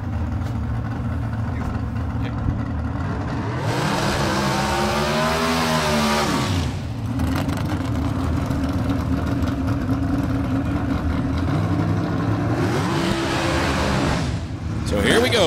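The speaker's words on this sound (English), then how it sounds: "So we got two C-Dragster automatics coming up side by side" Two C-Dragster automatic race cars at a drag strip: loud engines rumble and rev, with two bursts of rising and falling engine pitch over a constant low drone while a commentator talks over them.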